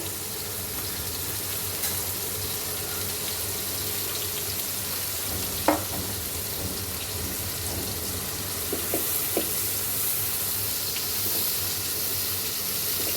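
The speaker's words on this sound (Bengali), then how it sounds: "এখন রসুনটা একটু ভাজা ভাজা করে নেব।" Garlic fries in a pan with a steady, even sizzle at moderate volume, broken by a few faint clicks of stirring.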